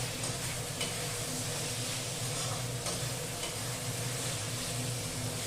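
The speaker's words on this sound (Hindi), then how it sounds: "अब मैं इसमें डाल दे रही हूँ टमाटर।" Tomatoes sizzle and crackle steadily as they fry in hot ginger-garlic paste in a home kitchen, with stirring sounds over a constant, close frying hiss and no talk.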